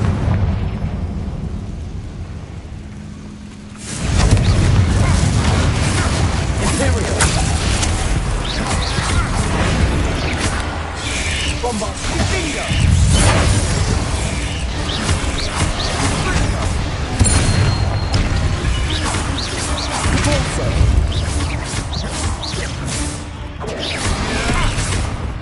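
In the Hogwarts Legacy video game, the Confringo explosion spell blows up spiders. A quiet stretch gives way to a sustained, dense roar of blasts, rumbling debris and crashing, loud and continuous for over twenty seconds.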